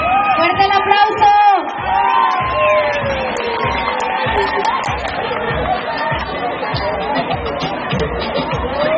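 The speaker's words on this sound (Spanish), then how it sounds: "¡Fuerte el aplauso!" A crowd at a San Antonio festival pageant cheers and whoops loudly, mixing shouts and chatter into a busy roar, with some clapping likely buried underneath.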